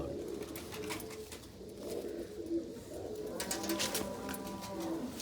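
A pair of domestic pigeons, male and female, coo repeatedly in low, rolling phrases close by, the calls recurring throughout with some brighter rustling toward the end.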